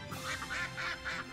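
A duck in Shenmue 3 quacks four times in quick, evenly spaced bursts, close and clear with nothing else over it.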